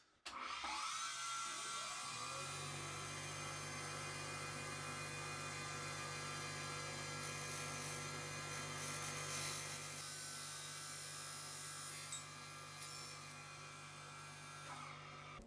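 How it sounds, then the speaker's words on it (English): A chipped diamond cutoff wheel on a grinder saws through a 6 mm carbide rod, giving a steady, even, high-pitched whine over a low motor hum that runs for the whole stretch. "this diamond cutoff wheel is missing a little chunk, but it's still cutting very nicely"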